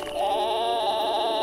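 A sheep in the video game Lost Lands 9 gives one drawn-out bleat, clear and close, lasting over a second.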